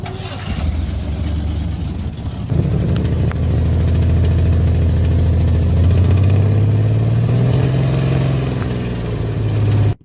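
A turbo Chevrolet Silverado with a knocking engine starts, settles into a steady rumbling run, then is revved so the low drone climbs and holds loud before cutting off abruptly at the end.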